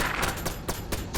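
Rapid bursts of gunfire in a Train Horror multiplayer game, several loud broadband cracks in quick succession over a dense noisy background.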